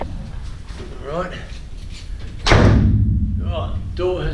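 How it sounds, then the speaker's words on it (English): An apartment door slams shut with one loud, heavy thud that rings into a low rumble, following a voice talking. "Alright, door has slammed."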